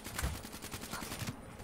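NX ShadowClaw fire in Black Ops 3 multiplayer: a rapid, evenly spaced string of shots, fairly faint and steady throughout.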